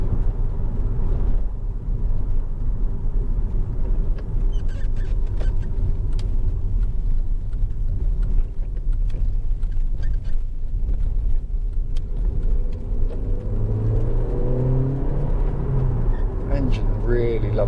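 Honda Civic 1.8 i-VTEC EX five-door engine heard from inside while driving, a steady low rumble with a rising tone near the end, a voice speaking over it.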